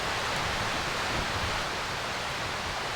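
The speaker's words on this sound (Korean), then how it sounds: "옆에 계곡이 있어서 계곡 물소리도 들려서 좋고" A mountain valley stream flows beside a forest campsite at Gukmangbong Natural Recreation Forest. Its rushing water gives a steady, even wash of sound, moderately quiet and continuous, with no talk.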